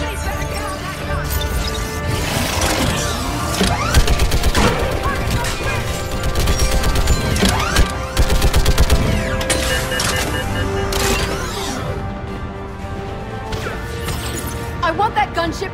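Video game battle with dense gunfire, smashes and crashes piling up in rapid bursts. The intensity stays steady throughout, with sharp impacts standing out and voices shouting in the background.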